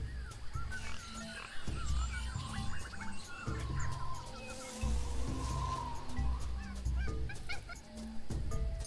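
Jungle ambience in the video game Tales of Monkey Island carries repeated honking, squawking bird calls over a dense bed of chirps and low thumps, steady and moderately loud.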